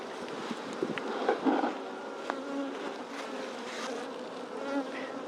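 Honey bees buzz steadily around an opened beehive full of brood, a dense droning swarm close by with a few louder passes, and no talking.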